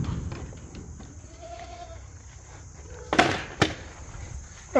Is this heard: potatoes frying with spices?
no